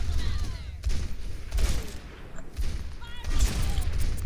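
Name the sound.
gunfire from a video game, Overwatch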